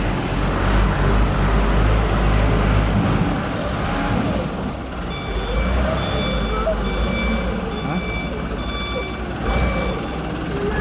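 Truck reversing beeps at a work site with a loader, a loud rumbling diesel engine under repeated steady high-pitched beeps that start midway, with a voice briefly heard over it.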